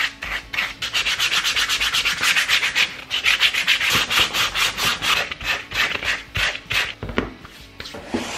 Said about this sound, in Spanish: lo último que vamos a hacer, solamente lo último, es pasarle una lija muy suave o una lija que esté gastada